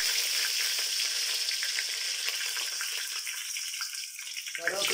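Loud, steady sizzling of curry leaves and cumin frying in hot oil fills the clip, with a brief clatter of stirring near the end.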